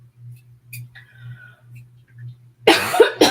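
One person coughs in a quiet room during an allergy flare-up, a sudden loud harsh burst near the end after soft throat and mouth noises over a steady low hum.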